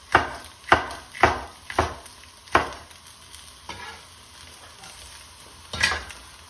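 King prawn kwai diew vegetables and beansprouts stir-fried in a pan, with a steady sizzle and a series of sharp, loud scraping strokes about every half second that slow and grow quieter, then one more stroke near the end; no talking.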